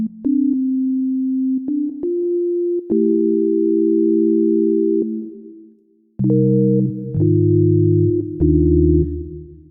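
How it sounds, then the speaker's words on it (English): Sustained synthesizer tones from Serum 2 with its vintage reverb shift between steady pitches and chords, each note trailing off into a lush, lingering reverb tail, loud and clean with no voices. "Great sounding vintage reverb."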